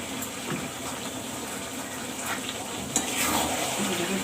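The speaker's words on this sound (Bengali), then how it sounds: "ভালো করে এবার নিয়ে নেয় কষিয়ে নিতে হবে" Potatoes frying with spices in a pan give a constant close sizzle, with occasional soft scrapes and stirring knocks; no voices.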